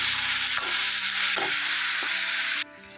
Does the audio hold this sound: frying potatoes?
yes